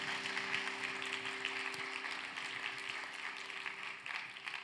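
A church congregation applauds at a youth worship service, a steady, even wash of many hands clapping heard from a distance, with a low hum underneath.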